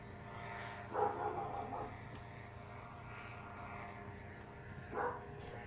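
A dog barks twice, about four seconds apart, each a short, fairly faint burst standing above a low background hum.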